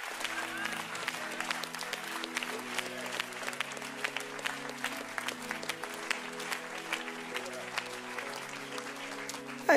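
A church congregation claps steadily over a sustained keyboard and music backdrop, with scattered individual claps close by and a fairly even rhythm throughout.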